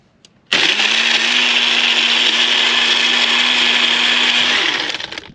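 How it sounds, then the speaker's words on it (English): A blender running off a Bluetti AC200P portable solar generator in an RV kicks on abruptly and whirs loud and steady for about four seconds before winding down, with no talking. "It pulled 500 watts while it's blending it."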